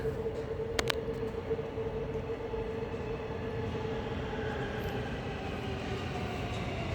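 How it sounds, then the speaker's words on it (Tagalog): A metro train arrives at a station in Riyadh with a steady rumbling roar and a faint whine, plus a short sharp clack early on, heard alone without speech. "Parating na ang train."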